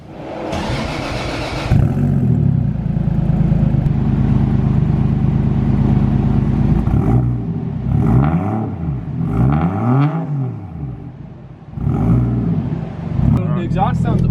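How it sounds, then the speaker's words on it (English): A car fitted with a new aftermarket 4-inch exhaust starts up and idles with a deep drone, then revs repeatedly in swooping rises and falls, loud and close, with voices talking over it. "The exhaust sounds almost identical to how it sounded before, just a little bit deeper."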